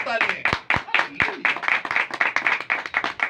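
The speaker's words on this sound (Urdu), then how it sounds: "اصلی یروشلم کے ایک بار زوردار تالیاں" A church congregation claps loudly and in unison, a dense stretch of rapid sharp claps lasting a few seconds with raised voices mixed in.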